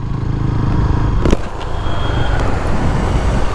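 A KTM Adventure motorcycle riding fast on an open road, its engine and rushing wind forming a loud, steady roar with a brief louder burst partway through, heard close and without speech.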